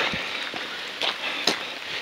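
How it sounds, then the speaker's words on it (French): Rain falls at night on a volcanic mountain trail during an ultra race, a close steady hiss broken by a few sharp drops or footfalls. "puis ce qui est chiant c'est qu'il pleut."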